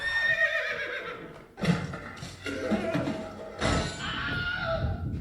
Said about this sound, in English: he's caught the horse and is leaping into the saddle